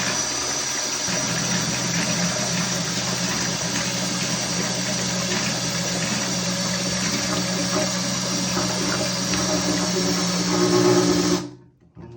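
A small electric pump draws water out of a toilet tank fitted with a Fluidmaster fill valve, giving a steady loud whirring drone with watery churning throughout, sputtering briefly before cutting off near the end.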